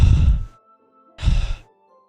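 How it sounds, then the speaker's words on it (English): Two sharp, breathy inhales spaced about a second apart, close and fairly loud with silence between them, heard as a game sound effect in Doki Doki Literature Club. "It sounds like breathing. A sharp inhale, like someone sucking the air through their teeth."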